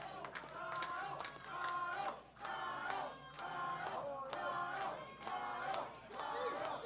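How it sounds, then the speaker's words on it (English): Wrestling crowd at a live event chanting in a loud, rhythmic cadence, with repeated vocal bursts roughly every second and scattered claps and cheers, heard from within the arena. "You hear this crowd, Bryce."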